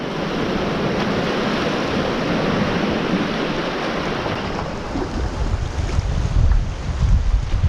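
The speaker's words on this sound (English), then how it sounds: "Bloody wind is a nightmare." Strong wind roars and buffets the microphone on a boat while lure fishing for bass at sea, a loud continuous rush with waves slapping more heavily toward the end.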